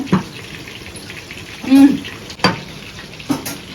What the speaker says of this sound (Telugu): కీమా బాల్స్ అయితే నీట్గా వేగినాయి కదా సో ఇట్లా అన్నీ నీట్గా వేయించుకోవాలి